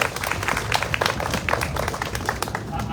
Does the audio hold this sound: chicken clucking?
no